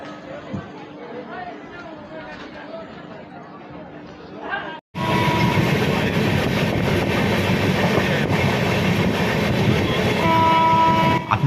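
A train on the Delhi to Ajmer route, heard from inside a sleeper coach, starts as quieter background with voices, then cuts to a loud, steady rumble of the carriage running, with chatter mixed underneath.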